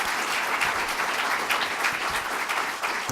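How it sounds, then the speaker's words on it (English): Audience applause at a leadership academy reception, a full, steady round of clapping from a crowd in a room, even and continuous throughout. "join me in giving a round of applause for them"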